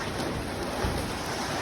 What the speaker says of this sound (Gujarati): વરસાદ પૂગી ગયો